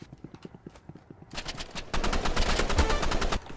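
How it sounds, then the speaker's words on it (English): Rapid gunfire from the video game Roblox Rivals during a duel, with scattered single shots at first, then a dense, loud burst of continuous automatic fire in the second half. "I knew someone was gonna start shooting at me"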